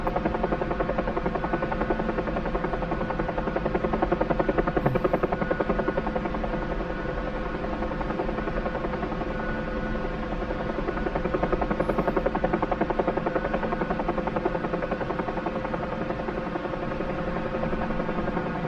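A Huey helicopter in a flight game drones with a dense, steady rotor and engine roar, loud and constant throughout with only slight swells in level.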